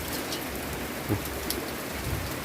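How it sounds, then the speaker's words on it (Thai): Steady rain falls on an old rural house and porch in Thailand, a continuous broadband hiss of drops with a few brief louder spatters, no voices over it. "น้องเอ้ยฝนตก"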